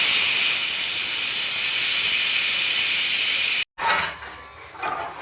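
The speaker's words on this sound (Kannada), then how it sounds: "ಇವಾಗ ಕುಕ್ಕರ್ ಮುಚ್ಚಳ ಹಾಕ್ಬಿಟ್ಟು 5 ವಿಷಲ್ ಕೂಗಿಸ್ಕೊಳ್ಳೋಣ" Pressure cooker whistling hard on a stove while mutton sambar cooks, a loud continuous steam hiss that cuts off abruptly, followed by softer sputtering bursts of steam.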